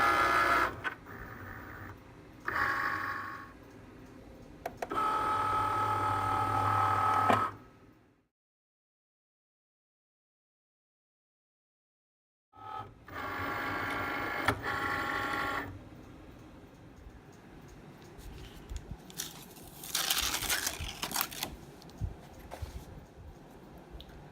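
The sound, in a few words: cutting machine reading alignment marks and cutting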